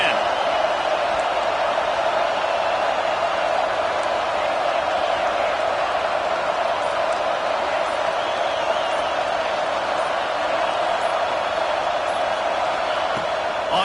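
A stadium crowd in a video game football match keeps up a steady, loud roar from start to finish, a dense wash of massed voices with no pauses and no single cheer standing out.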